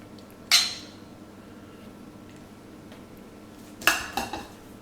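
Metal tongs lift pasta with peas and pancetta from a pan, giving two sharp clanks against the cookware separated by a quiet stretch, the second followed by a couple of lighter knocks.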